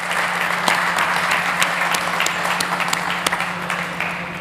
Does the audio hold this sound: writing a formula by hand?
no